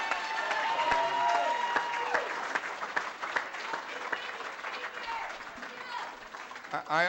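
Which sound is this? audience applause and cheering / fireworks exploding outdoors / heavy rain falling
audience applause and cheering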